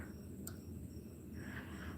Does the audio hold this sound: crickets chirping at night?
yes